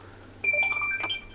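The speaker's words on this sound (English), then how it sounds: "That was my phone." A phone notification chime plays in a leather workshop, a short sequence of bright electronic beeps and tones lasting about a second, clear and fairly close over a faint steady hum.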